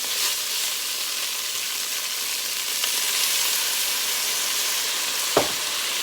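Meat browns in a pot over high heat for Cajun jambalaya, giving a loud, continuous sizzle and hiss with one brief scrape or stir near the end.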